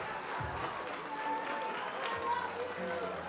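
A baseball stadium crowd applauds steadily for an injured player who stays in the game, a broad wash of clapping and murmur with a commentator talking over it.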